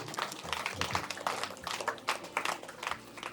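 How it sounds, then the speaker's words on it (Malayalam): Scattered applause from guests at a Kerala Christian wedding-eve gathering, a moderately faint crowd of uneven claps that rises and falls in bursts, with a little background chatter. "ഇതിനോട് ഉഷാറായിട്ടൊരു കൈയടി കൊടുത്തേ"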